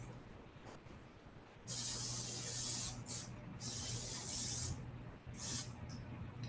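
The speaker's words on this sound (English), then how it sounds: "I'm going to actually spray the pan a little bit just to make sure nothing sticks." Several short bursts of hissing spray from an aerosol can of cooking oil onto a baking pan, close and fairly loud, with brief pauses between them.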